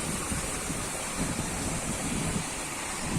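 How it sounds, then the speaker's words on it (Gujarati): Water from a borehole gushes up inside a well, rushing continuously in a dense, steady hiss with a churning low rumble underneath. "એ જો ફૂફાડા મારે પાણી"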